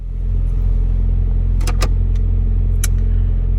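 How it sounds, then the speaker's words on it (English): A car engine idling steadily while warming up before a drive, a loud constant low rumble that continues throughout, with a few brief rattling clicks over it. "Letting the car warm up"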